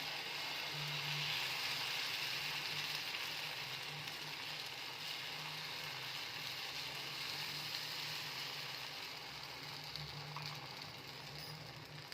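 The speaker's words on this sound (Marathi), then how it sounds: "याच्यावर आता हे तांदूळ आणि उडीदचे पीठचं बारीक केलेलं हे टाकत आहे मी." Rice and urad dal batter poured onto a hot oiled griddle gives a steady, even sizzle and hiss that fills the whole stretch, close and continuous with no talking.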